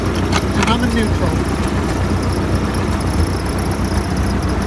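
A Ford 8N tractor engine idles steadily in neutral, a constant close low chugging with a faint metallic jingle early on, under a speaking voice.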